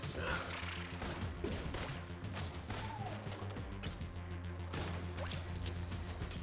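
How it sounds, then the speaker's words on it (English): Rocket bullets firing in the video game Enter the Gungeon, rapid repeated blasts and crashes under a constant backing soundtrack, loud and continuous. "those rocket bullets always kind of surprise me"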